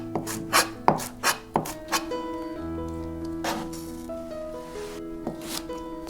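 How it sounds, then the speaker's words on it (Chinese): A kitchen knife slices Beijing scallion whites on the bias into thin shreds, with several crisp chops against a cutting board in quick succession, close and alone, over a sustained musical backing. "再斜刀切丝，断筋之后的葱丝更方便入口"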